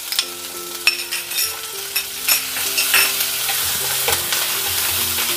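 Grated ginger and green chillies sizzle and fry in a pan for a vegetable stew, a steady close crackle with a spoon stirring and scraping now and then.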